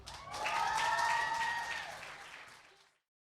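Round of applause from the audience at a youth reporting listening party, a dense patter of clapping that swells quickly, holds, then fades away to silence, with a faint tonal ring riding over it.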